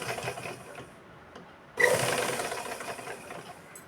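Sewing machine stitching a blouse: a soft mechanical rattle at first, a brief pause, then a louder, steady, fast stitching burr up close that continues to the end.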